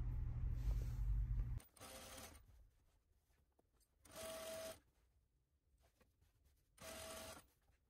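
Overlock sewing machine stitching seams on a top, a short loud whirring burst followed by three quieter, evenly spaced runs of fast stitching separated by near silence, close by.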